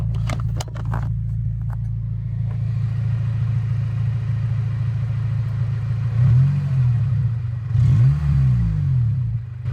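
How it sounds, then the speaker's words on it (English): A warmed-up Acura RSX DC5 fitted with an Invidia N1 catback exhaust starts and settles into a steady, loud idle, with deep burbling swells and a couple of revs near the end. "That's a car starting."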